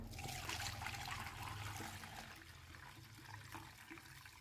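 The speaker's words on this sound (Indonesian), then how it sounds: "setelah gula merahnya sudah kita masak, ini kemudian kita saring ya teman-teman" Cooked palm sugar syrup runs through a strainer in a faint, steady liquid trickle, quiet and continuous throughout.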